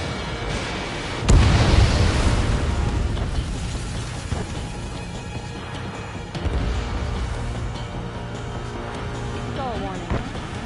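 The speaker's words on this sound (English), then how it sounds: "Bomber hit by a missile." Missile explosion striking a bomber in the Ace Combat 7 flight game, a sudden loud boom followed by sustained roaring jet and battle noise, with a second blast later and voices from the game over it.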